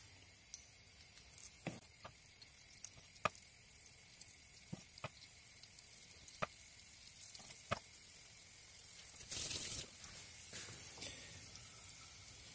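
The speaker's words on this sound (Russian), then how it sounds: "Жарятся они очень быстро" Salty cottage cheese pancakes with herbs fry in a pan, giving a faint steady sizzle scattered with sharp little pops and crackles, plus a brief louder scraping burst near the end.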